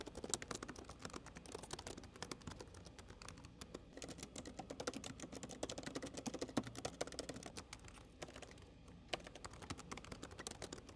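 Quiet, steady key clicks from typing on the keyboard of a Lenovo gaming laptop, close up and fairly even in rhythm, with no talk over it.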